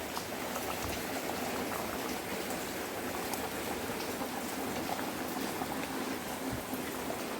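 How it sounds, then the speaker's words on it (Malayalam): A taro leaf curry boils steadily in a pot as a ground onion and cumin paste goes in, a dense, even bubbling hiss that runs unbroken throughout, close by with no voices. "ഇത് നമുക്ക് അതിലേക്ക് ഒഴിക്കാം"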